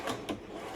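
A drawer in an RV kitchen of a 2021 Keystone Outback travel trailer slides open or shut, two quick faint wooden scrapes close together, with no voices.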